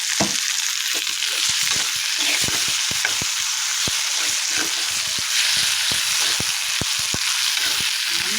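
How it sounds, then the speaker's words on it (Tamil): Herb leaves sauté in sesame oil for a herbal thuvaiyal, giving a steady, loud sizzle with frequent sharp clicks from stirring throughout. "நல்லெண்ணெயை பயன்படுத்தி வதக்கணுங்க"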